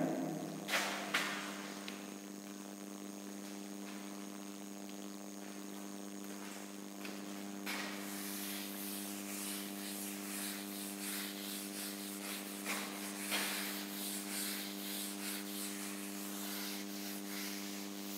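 Writing is wiped off a board with steady, soft rubbing strokes under a constant electrical hum. The strokes grow more vigorous and continuous after a few seconds.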